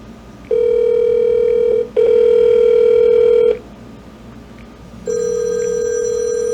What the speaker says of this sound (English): You hear my cell phone ringing.